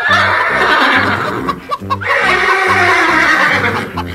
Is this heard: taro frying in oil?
no